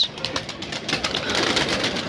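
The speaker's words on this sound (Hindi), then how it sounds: "ये देखें ये आ रहा है कुछ कबूतर" Soft pigeon cooing amid a busy outdoor background hum, with faint bird calls drifting in and out; no one speaks.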